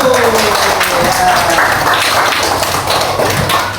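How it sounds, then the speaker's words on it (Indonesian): A classroom group applauds a presenting team during a teacher-training session, loud and dense clapping filling the whole few seconds with occasional thumps and voices mixed in. "Tepuk tangan untuk kelompok 1."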